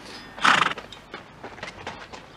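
A horse whinnies loudly and close by at the start, followed by a series of softer rhythmic hoof clip-clops, with no talk over it.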